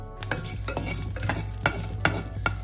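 Cumin seeds crackle and sizzle in hot oil in a pan, dense popping with a few sharper spatters and scrapes from stirring over a low steady hum, close and loud, no voices.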